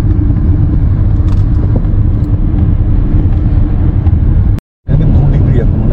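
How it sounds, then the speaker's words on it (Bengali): A car turns off a highway into a resort near Risør, Norway, its loud, steady road rumble and engine drone filling the cabin, with a momentary dropout near the end. "রাইট নিয়ে নিলাম হাইওয়ে থেকে, আর আমরা ঢুকে পড়লাম রিসর্ট যেখানে আমরা থাকছি।"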